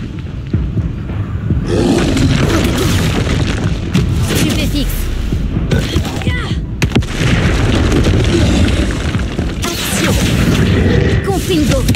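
Blasting spell explosions in the Hogwarts Legacy video game, loud booming blasts with roaring rumble in a dense, continuous stream of game combat noise, with a voice speaking over it.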